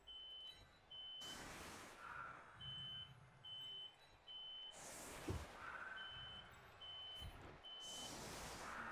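Repeated short electronic beeps in a regular pattern from an alarm, sounding indoors during an online game session, with broad whooshing bursts of noise recurring between the beep sequences.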